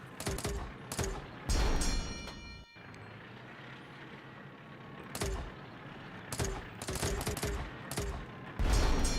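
Tank cannon shots in the retro-style Xbox One game Retro Tanks, a burst of sharp clanging gunfire pops in several clustered volleys with brief lulls between, loud and close over a steady game backdrop.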